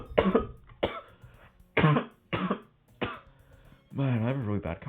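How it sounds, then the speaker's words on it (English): A man with a bad cough lets out a string of harsh, close coughs, five separate bursts spaced out, ending in a longer throaty rasping cough. "I have a really bad cough today"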